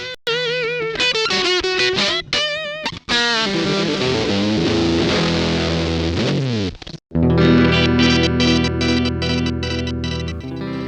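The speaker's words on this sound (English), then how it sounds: "Distortion describes any process which adds harmonics to the guitar signal by distorting the shape of the" Electric guitar through a distortion effect on a Zedboard-based multi-effects processor: gritty, harmonic-rich notes and sustained chords, with a brief silence partway through before a thick distorted chord rings on.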